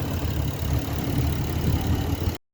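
A Ford car with a small turbo idles in a steady, close mid-low engine drone for about two and a half seconds, with no talking.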